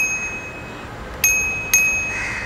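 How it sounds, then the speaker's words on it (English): A Decathlon spring-mounted bicycle bell on a BTWIN Tilt 500 XS folding bike dings twice in quick succession, each bright ring decaying over quiet background hiss. "On this bike you get a by default bell from Decathlon itself which is on the spring."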